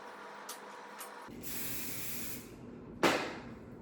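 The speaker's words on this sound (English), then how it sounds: "And hairspray is your friend." Hairspray from an aerosol can hisses onto hair while it is being styled into glam waves, with one longer steady burst followed by a sharper, louder spray near the end, close to the microphone.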